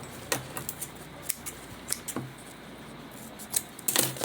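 Scissors snipping off thread on a homemade fabric zipper pouch, a few sharp, close clicks and snips spread across a quiet room, with no talk.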